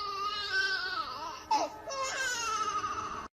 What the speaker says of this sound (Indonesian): mereka mendengar suara bayi menangis di semak duri di dekatnya